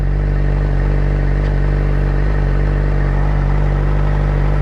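A 600cc motorcycle engine idles in neutral with a loud, steady low rumble that holds constant and close throughout.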